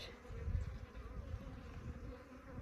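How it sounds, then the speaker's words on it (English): Honeybees warming up in comb beneath a shed floor give a low, steady droning buzz, close and continuous, swelling slightly without pause. "They're starting to warm up, the bees are."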